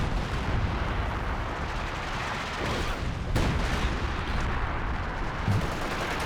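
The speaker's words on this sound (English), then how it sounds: "Concentration barrage coming down on the double infantry support guns out the back there." A concentration artillery barrage in Company of Heroes 2 falls near a pair of infantry support guns, a dense, continuous rumble of blasts and gunfire with a few sharper impacts standing out, loud and without talk.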